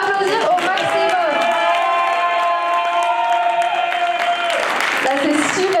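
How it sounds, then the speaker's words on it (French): Loud crowd reaction at a regional beauty pageant in Occitanie, sustained clapping and cheering with whooping voices and a sustained tone over the noise, continuous and energetic throughout. "Je veux vous entendre applaudir au maximum."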